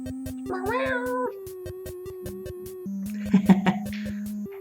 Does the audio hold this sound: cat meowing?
yes